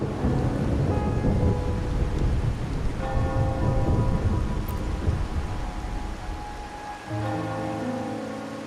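Steady heavy rain with rolling thunder fills a stormy scene in the video game Wuthering Waves, loud and continuous throughout with a dense low rumble and a brief shift near the end.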